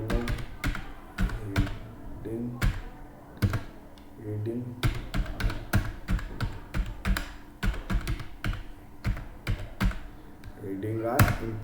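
Rapid clattering keystrokes on a computer keyboard come in bursts, with brief pauses between them. The typing is close and crisp, with a voice speaking at times alongside it.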